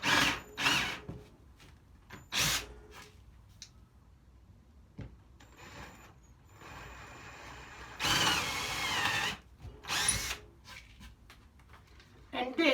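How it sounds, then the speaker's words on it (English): Power drill with a large bit boring into a wooden cheese board, several short whirring bursts up close with pauses in between, a longer run near the end. "I'm going to drill about a third in, okay? Or with a much bigger drill bit."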